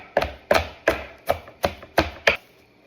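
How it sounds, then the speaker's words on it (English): A knife roughly chops a bunch of cilantro on a cutting board, seven sharp, evenly spaced thunks close up at a steady rhythm, then quiet. "So we just do a rough chop."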